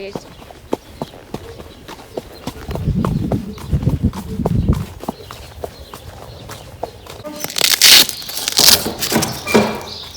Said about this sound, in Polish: także też zawsze tutaj rozstępowujemy konia